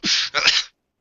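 A single sharp sneeze, close and fairly loud, in two quick bursts: a sudden intake-like burst followed by a breathy explosive release, then silence.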